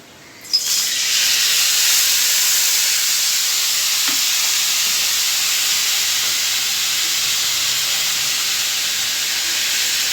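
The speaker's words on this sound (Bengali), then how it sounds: "কড়াইয়ে তেল গরম দিচ্ছি এবার আমি ভেজে নেব এই ছোটো মাছগুলো" Small fish frying in hot oil in a wok for a bitter gourd leaf curry, a loud, steady hiss that starts suddenly and keeps going without a break, close up, with no talking.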